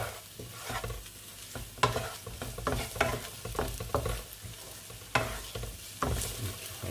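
Onions fry in hot oil and are stirred in a pan, a soft steady sizzle broken by repeated scraping and clicking strokes of the utensil, fairly close and without talk.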